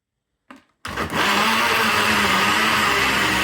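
A kitchen blender chopping raw chicken pieces with chopped garlic cloves for spring rolls, starting after a brief knock and running loud and steady to the end, without talk.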